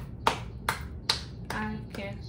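Hands clap in a slow, even beat during a children's action song, five separate claps spaced evenly, fairly soft and close, with faint singing in the background.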